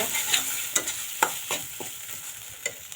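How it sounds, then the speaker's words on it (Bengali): Food frying in a pan for a roast dish while being stirred, with a steady sizzle broken by several sharp spoon scrapes and clinks, close and fairly loud, no talk. "ভালোভাবে এটা ভেজে ভেজে নেব"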